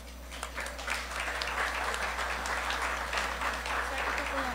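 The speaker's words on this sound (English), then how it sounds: "A round of applause," Steady applause from an audience fills an indoor awarding ceremony, a continuous even patter of clapping over a low hum, with faint voices underneath.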